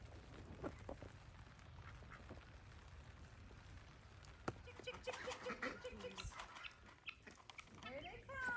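Ducks quacking in a rising, busy chorus that grows louder toward the end, amid other farmyard sounds, with a person speaking quietly in the background.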